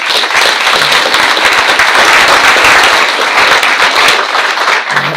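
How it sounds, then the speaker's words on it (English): Audience at a school board meeting claps for safety staff, loud close dense applause sustained throughout before tapering slightly at the end. "I want you to give them a round of applause right now."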